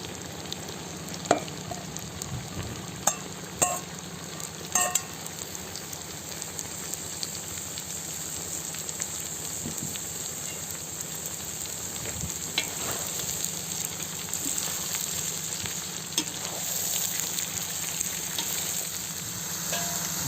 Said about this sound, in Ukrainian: Все смажиться, вогонь на максимум.